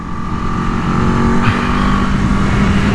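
An Aprilia RSV4 Factory motorcycle at speed on the COTA track, its engine a loud, sustained high-revving drone with steady tonal harmonics and rushing wind, close and unbroken.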